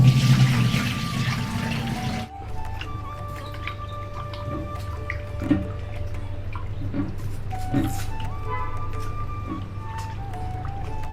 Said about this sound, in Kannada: ಇವಾಗ ಚಿಕನ್ ವಾಶ್ ಮಾಡಿ ಆಗಿದೆ.